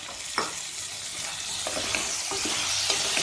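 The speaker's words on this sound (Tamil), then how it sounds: "நல்லா சூப்பராக வந்து எண்ணெயிலே வதங்கிருச்சு." Drumstick, potato and tomato pieces sautéing in hot oil for Tamil puli kulambu, a steady close sizzle with occasional stirring scrapes, no voice.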